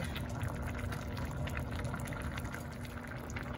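Paksiw mackerel (tamban) simmering in a pot, a steady close bubbling and gentle liquid churning over low kitchen hum, continuous and even with no talk.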